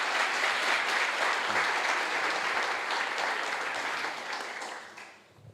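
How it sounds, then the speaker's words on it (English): Hall audience applauding a student team at a university hackathon event in Prague, a dense wash of clapping that holds steady and then thins and fades out near the end. "So big applause for the NoiseWise."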